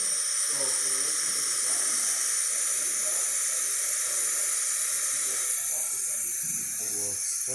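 Steam hisses steadily from a serviced La Pavoni Professionale espresso machine, a loud continuous high hiss with faint sputtering and a soft voice underneath.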